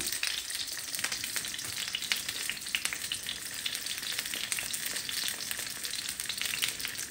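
Puris deep-fry in hot oil with a continuous close, bright sizzle and a crackle of popping bubbles, steady and even throughout with no voices.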